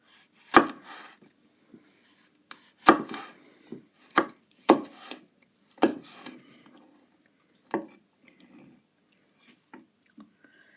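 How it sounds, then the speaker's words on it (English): A knife slicing through a mild red chilli on a chopping board: a handful of sharp, separate cuts spaced a second or so apart, close and fairly loud, trailing off into a few lighter taps. "This is quite a mild red chilli. There's not really much seeds in it, so I'm just going to slice it up."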